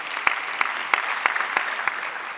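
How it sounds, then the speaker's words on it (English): An audience claps at a women in education event, a fairly sparse round of applause with several sharp, evenly spaced claps standing out over a steady patter, heard from mid distance. "Please, a round of applause for AFFiT for that."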